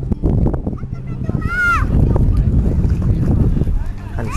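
Strong wind buffets the microphone at Pontal beach in Porto de Galinhas, Brazil, a loud continuous low rumble throughout, with a brief whistle-like sound partway through.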